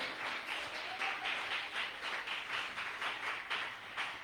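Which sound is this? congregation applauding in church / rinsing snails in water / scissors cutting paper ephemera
congregation applauding in church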